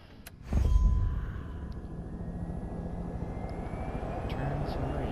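Helicopter in a video game spins up and flies, a sudden loud whooshing rotor onset followed by a steady airy engine drone that lingers to the end, with no talk over it.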